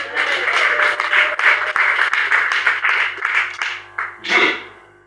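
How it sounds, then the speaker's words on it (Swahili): A church congregation claps and cheers in a sustained, dense burst of applause that fills the space for several seconds, easing briefly before a final louder swell near the end. "Yesu makofi ya kutosha"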